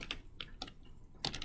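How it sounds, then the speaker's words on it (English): Several quick, crisp keystrokes on a computer keyboard come in short irregular bursts, close and fairly soft, with brief pauses between them and no voices. "And then when I type anything but capital J Joe,"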